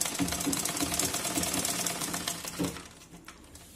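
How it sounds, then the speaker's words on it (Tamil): A domestic sewing machine stitching a fall onto slippery chiffon saree fabric, a fast steady whirring rattle that runs for about two and a half seconds, then slows and stops with a few faint clicks, fairly close. "எட்ஜில வச்சு தைக்காம நான் மிடில் வச்சு தைச்சிட்டு வரேன்."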